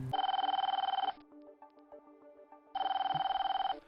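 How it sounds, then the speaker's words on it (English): A telephone rings in two bursts of rapid trilling bell tones, shrill and close, separated by a quiet gap of about a second and a half with faint background tones. "The shrill ringing of the phone cut through the silence"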